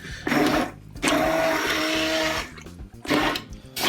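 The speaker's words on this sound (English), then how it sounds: "We're going to use an immersion blender." A loud immersion blender whirs in bursts, running steadily for over a second, pausing briefly, then starting up again, with a grinding motor hum.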